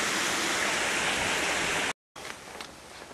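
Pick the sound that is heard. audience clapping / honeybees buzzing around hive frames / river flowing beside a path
river flowing beside a path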